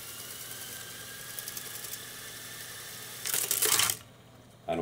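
A Fostex R8 reel-to-reel tape recorder runs with a steady mechanical hum, then breaks into a louder, brief clattering burst as it reaches the end of the tape and auto-stops, followed by quieter hum.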